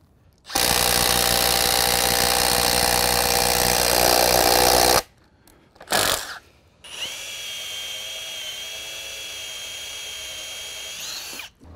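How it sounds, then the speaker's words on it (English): A close, loud masonry drill grinds steadily into brickwork for several seconds, stops briefly with a short burst, then resumes at a lower, steady pitch before cutting off. "I use a masonry drill to drill a hole in the brickwork"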